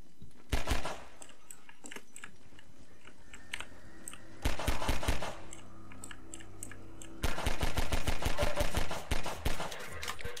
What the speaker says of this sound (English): I just use my sniper rifle out the window here.